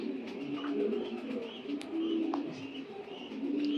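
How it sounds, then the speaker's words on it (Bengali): Racing pigeon babies from a club in Bangladesh coo softly and repeatedly at close range, low throaty calls rising and falling over a steady faint background hum. "এগুলো কবুতর অনেক সুন্দর হয়"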